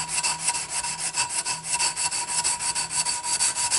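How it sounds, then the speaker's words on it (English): Sandpaper wrapped around a three-quarter-inch wooden dowel rubs back and forth along a knife handle, making a steady, rhythmic scratching close to the listener with no talk. "I got a piece of 3/4 dowel with some sandpaper."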